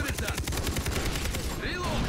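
Rapid bursts of gunfire fill the clip in a Far Cry 3 co-op firefight, with dense repeated shots in a quick rhythm and the shots continuing for about two seconds.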